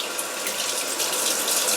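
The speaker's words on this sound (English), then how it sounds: "a great trick when the dough is sticky, better than adding flour, which you see on a lot of cliche videos and stuff, is actually just wetting your hands a little bit" Tap water gushes loudly and steadily from a faucet as hands are wetted before kneading sticky homemade pizza dough, a close, continuous hiss without any speech.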